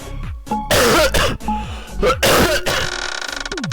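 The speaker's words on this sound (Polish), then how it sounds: "Cały czas kaszel." Harsh coughing from a sick man recording a CS:GO skin-opening session, several rough bursts with throaty clearing between them, close and loud, followed by a rapid electronic rattling tone at the end.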